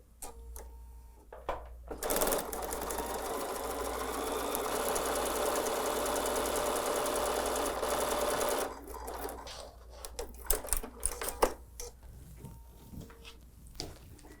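Sewing machine stitching table runner fabric pieces, a steady close whirring run of about seven seconds followed by short bursts of stitching and clicks.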